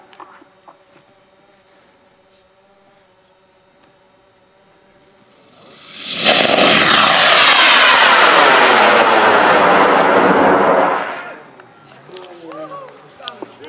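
A $6 sugar rocket motor fires during a test flight launch: after quiet low hum and faint talk, a sudden loud broadband roar bursts in and holds steadily for about five seconds, then cuts off, followed by voices.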